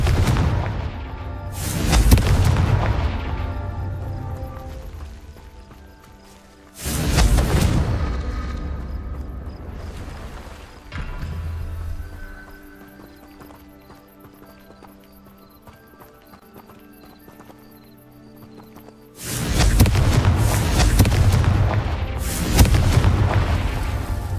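Confringo explosive spell going off in Hogwarts Legacy: three heavy booming blasts, each a sudden loud impact with a long rumbling decay, spaced several seconds apart over quieter game ambience.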